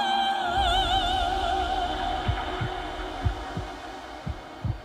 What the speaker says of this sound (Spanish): Los latidos del corazón.